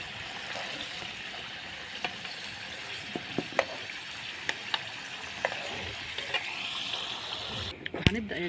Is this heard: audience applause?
no